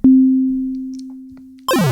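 An FM bell synth sample in the Naive Tracker app strikes one sustained, pure bell-like tone that rings and slowly decays, then a brighter buzzy burst cuts in near the end.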